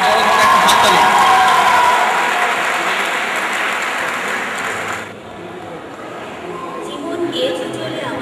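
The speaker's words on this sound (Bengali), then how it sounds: "সো তাদের জন্য বড় ধরনের একটা হাততালি।" Applause from the crowd at an alumni reunion in Curzon Hall, loud clapping at the start that fades into a murmuring room, with voices talking over it.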